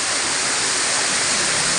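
Gembleng waterfall in Sidemen, Bali, a steady broadband rush of falling water, close and loud, continuous with no pauses and no voices.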